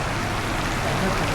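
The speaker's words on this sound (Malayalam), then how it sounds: "നല്ല മഴ കേട്ടോ, നല്ല മഴ." Dense, steady rush of heavy rain in Adimali town, Kerala, broadband and continuous throughout, close and fairly loud with no pauses.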